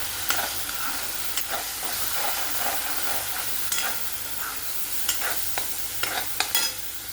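Masala of turmeric, red chilli and homemade chutney sautéing in oil in a pan, with a continuous sizzle broken by sharp spoon taps and scrapes that cluster near the end.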